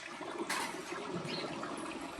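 Water pouring and splashing into a pesticide sprayer tank in a groundnut field, a steady rushing trickle with a brief louder gush near the start.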